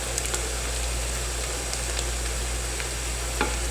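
Sliced onions frying in about half a cup of oil in a pan, a steady close sizzle with light stirring clicks throughout.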